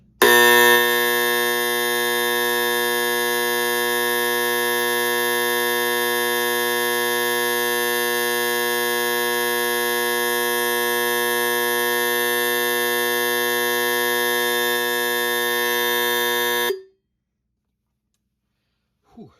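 A fire alarm gives a loud, steady electronic buzz with a dense harmonic tone, sounding continuously for about seventeen seconds before cutting off abruptly into silence.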